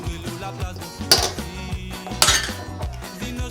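Metal spoons scraping and clinking against a bowl while rice salad with tomatoes, cucumbers and beans is stirred together, a steady rhythm of clatters with two sharper knocks, close and alone.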